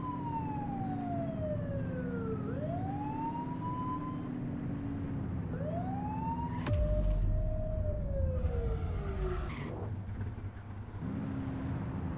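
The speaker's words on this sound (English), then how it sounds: "Get behind them and blip the siren and make them pull over." Police car siren in the video game The Precinct, loud and close, sweeping up and down in repeated wails with short blips, over a running car engine and a burst of road noise.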